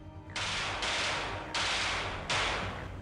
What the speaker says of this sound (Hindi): दोनों बदमाश दुकान के अंदर आकर काउंटर पर बैठे व्यापारी के बेटे सन्नी पर दनादन फायरिंग शुरू कर देते हैं।